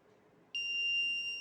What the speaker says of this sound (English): So if it is not valid finger, it will show buzzer.